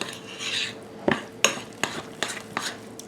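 Keto zucchini bread batter stirred in a bowl, a spoon knocking the sides in a quick, steady series of distinct clinks and scrapes, close and alone.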